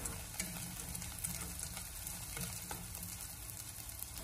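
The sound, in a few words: ginger and scallions stir-frying in hot oil in a small pot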